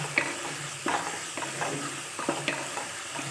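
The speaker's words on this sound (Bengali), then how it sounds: "এখন পোস্তটা দিয়েও এর সঙ্গে নেড়ে চেড়ে নিচ্ছে।" Pabda fish and poppy seed paste sizzle in hot oil and are stirred in a pan, with a steady hiss broken by soft, regular scraping strokes, close and moderately quiet.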